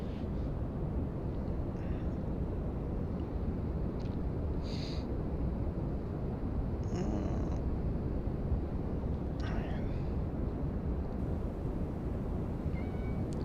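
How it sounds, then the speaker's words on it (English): A cat meows a few times at a distance, with short faint calls scattered over a steady loud hum of background noise, and no purring is clearly heard. "What are you meowing about?"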